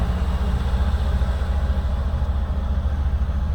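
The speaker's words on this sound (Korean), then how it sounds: "기차가 가네요." A train passes near a construction site where materials are being loaded, a steady low rumble that holds continuously and evenly throughout.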